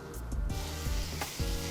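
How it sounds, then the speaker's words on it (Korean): Onions sizzle as they fry slowly over low heat in a pan, a steady crackling hiss with occasional soft stirring knocks, close and alone without talk. "이렇게 지글지글하는 소리 나요."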